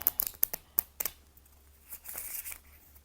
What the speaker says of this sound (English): I'm going to mix them around, and then we're going to line them up and draw.